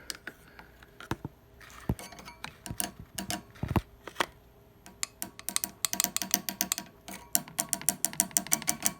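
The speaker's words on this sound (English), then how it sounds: "So that's the sound of a tube being tapped" Repeated tapping on a microphonic 12AX7 preamp tube in an amplifier with the volume off, sounding as irregular sharp clicks and knocks that grow into a denser, faster flurry of taps, close up and alone.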